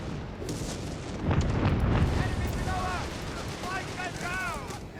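Off-map artillery strike in the Company of Heroes 3 strategy game, rumbling booms rising under steady battle noise while someone commentates over it.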